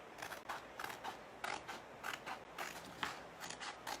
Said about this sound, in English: So I'm gonna go ahead and cut down these cut lines